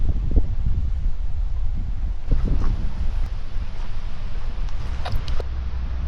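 Wind gusts buffet the microphone while someone paddle boards out on an open lake bay, a steady rough rush with soft rustles and a few light knocks from the board.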